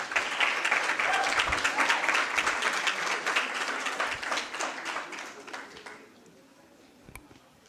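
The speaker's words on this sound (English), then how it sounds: "May I please have the round of applause." An audience at an academic gathering on Ubuntu gives a full round of applause, dense and steady clapping for about five seconds that thins out and fades, ending with a few scattered claps.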